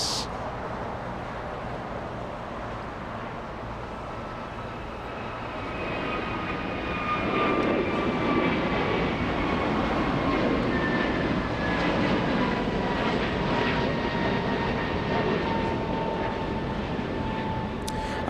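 An Alaska Airlines jet at Los Angeles International Airport gives a sustained engine roar with a high turbine whine. It swells louder about midway and holds strong, with no talk over it.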